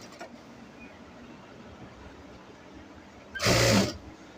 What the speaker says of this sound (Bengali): এই যে রাবারটা টান করে আমরা সেলাই করব।